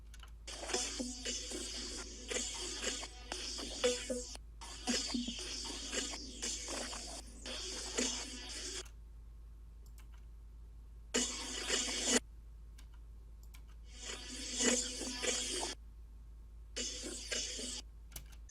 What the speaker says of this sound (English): created a few glitchy layers that I chopped up to add as well